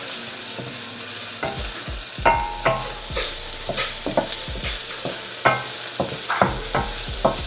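Mixed vegetables stir-frying in a pan hiss loudly and continuously, broken by repeated spatula scrapes and knocks against the metal at an uneven pace, close up with no voices.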